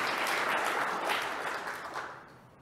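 Keynote audience applause, a full wash of clapping that tapers and fades toward the end.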